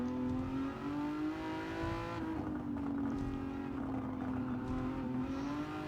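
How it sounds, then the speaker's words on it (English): An Aston Martin DB11 engine in Gran Turismo 7 hums at a steady, high drone on the Tokyo Expressway, and the pitch eases slightly as the throttle lifts. The sound is continuous and up close, with no talk. "we're just gonna lift the throttle at the end of the straight and just give ourselves some braking room"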